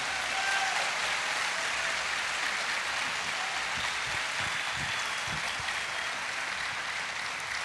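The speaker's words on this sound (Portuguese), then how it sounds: "uma salva de palmas de gratidão." A church congregation claps in thanks, a broad, even wash of applause from many hands that stays steady throughout, with no talking over it.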